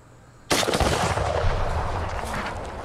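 A single sudden explosion blasts out after a quiet moment, its sharp loud crack followed by a long rumbling, crackling decay that slowly fades.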